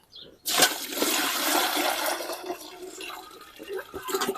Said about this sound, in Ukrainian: Заливаємо відром води